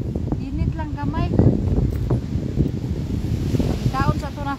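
Gusty wind buffets the microphone at Stanley Beach, Hong Kong, a steady rushing roar throughout with a person talking over it.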